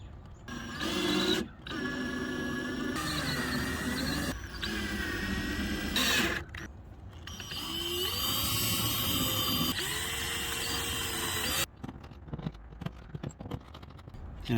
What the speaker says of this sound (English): So I'm going to start them with the drill